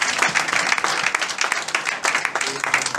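A church congregation applauding during a gospel service, dense, close, continuous clapping from many hands, with voices mixed in.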